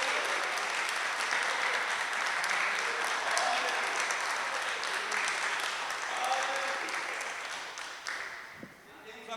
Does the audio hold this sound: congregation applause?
yes